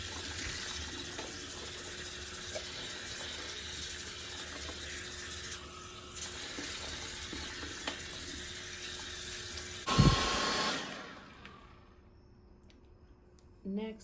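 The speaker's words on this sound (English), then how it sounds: "we're going to start out with just rinsing out the color before we add in any shampoo or anything like that" Tap water running into a sink while hair dye is rinsed out of a wig, a steady close hiss with faint clicks, ending in a brief louder splash before the flow stops and the room falls quiet.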